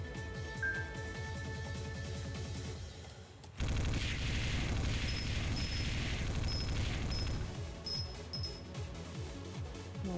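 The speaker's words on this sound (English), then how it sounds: "Okay, a machine gun." Sustained rapid machine-gun fire from the video game Magic Potion Millionaire, dense and loud throughout with a brief break and game effects layered over it, no talking.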